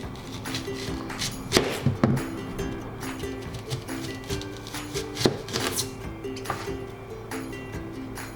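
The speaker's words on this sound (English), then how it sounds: "Let's make thick slice of onion." A knife cuts thick slices through an onion on a cutting board, several distinct cuts at an uneven pace, close and fairly quiet with no speech.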